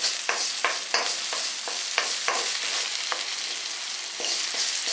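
Sugar and salt being stirred into hot oil for a puffed rice recipe: a steady sizzle with repeated scraping stir strokes, close and continuous, no voices.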